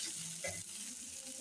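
Ingredients sauté in a pan with a continuous soft sizzle and a faint stir or scrape, heard close up and quiet.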